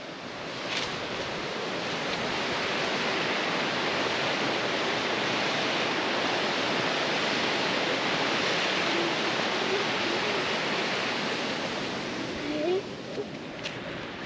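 Small waterfalls at Edith Falls pour in a steady, broad rushing roar that holds close and constant throughout, with faint wind and a voice briefly heard over it.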